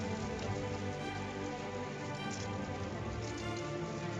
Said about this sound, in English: Getting some heavier rain going.